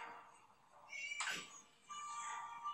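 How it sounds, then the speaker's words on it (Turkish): A single cat meow rises sharply mid-clip over a quiet synthetic backdrop, with faint tonal game sounds before and after it, in the video game Scary Teacher. "Kedi sesi geliyor."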